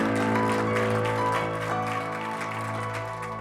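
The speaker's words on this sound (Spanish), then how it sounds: "Dele ese aplauso fuerte a Cristo" A church congregation at a Christian community service applauds loudly and steadily, the sustained clapping mixed with a held musical tone underneath.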